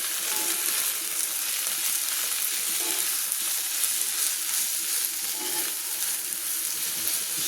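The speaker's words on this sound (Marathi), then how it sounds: "अशी थोडी तव्यातली मिरचीची भाजी करायला लागली." Green chili vegetable fries on a tava griddle with a dense, unbroken sizzle and faint stirring scrapes underneath, close and even throughout with no talk.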